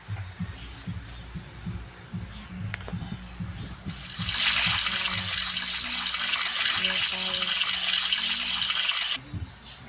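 Shower water running in the Roblox Brookhaven game, a steady bright hiss of spray that starts partway through over soft thumping game sounds and cuts off near the end.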